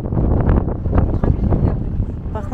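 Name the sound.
strong wind at Monument Valley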